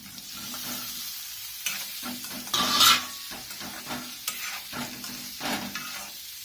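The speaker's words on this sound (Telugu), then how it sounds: "కట్ చేసి పెట్టుకున్న పన్నీర్ పీసెస్ ఉన్నాయి కదా, వీటిని కొంచెం నేను బటర్లో ఫ్రై చేస్తున్నాను." Paneer pieces fry in butter, a close, continuous sizzle broken by stirring scrapes and pan clinks, with a sharper hissing burst about midway; no voices.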